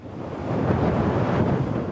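Strong wind buffets the microphone over a rough, churning sea, with a steady roaring wash of waves close by and no voices.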